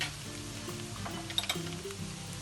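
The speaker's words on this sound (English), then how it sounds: "Fry it until aroma, fragrance smell, and then add in a little bit of seasoning again." Aromatics frying in a pan with a pinch of salt and sugar for transparent noodles with prawns, a steady moderate sizzle with a few light clinks of a utensil stirring against the pan.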